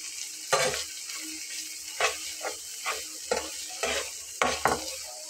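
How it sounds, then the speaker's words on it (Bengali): Tomato, spices and cumin powder frying over low heat in a pan, with a steady soft sizzle broken by about eight sharp stirring scrapes at a fairly regular pace, close and clear with no talking. "একদম হালকা আঁচে আমি এটাকে একটু কষিয়ে নিচ্ছি, সব মশলাগুলো একসঙ্গে করে।"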